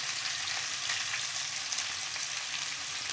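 Onions frying in a pan, a dense, even hiss of sizzling oil close up and continuous for a few seconds, no talking.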